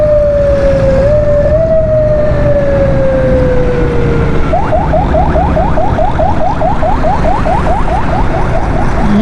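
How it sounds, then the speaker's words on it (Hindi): A private ambulance siren sweeps steadily, then switches to a fast repeating yelp as it passes on a road, loud over constant traffic rumble. "कोई प्राइवेट एम्बुलेंस है।"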